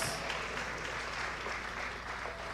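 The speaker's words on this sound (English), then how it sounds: "Please give them another round of applause." Sustained applause from an audience at National Diaspora Day celebrations, a fairly quiet, even wash of clapping that continues throughout.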